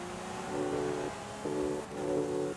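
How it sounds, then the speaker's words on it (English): A Lamborghini Veneno with an Aventador V12 engine in Forza Horizon 5, giving three steady, moderately quiet revving tones separated by short pauses over a constant background hum. "It's got that Aventador V12, so it sounds amazing too"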